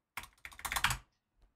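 Rapid clattering keystrokes on a computer keyboard, a dense burst of typing for about a second before stopping, fairly close and alone.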